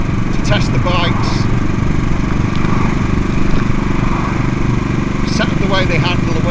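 A CCM Bobber motorcycle rides on the road, its engine giving a loud, steady, close throbbing under a constant stream of wind noise.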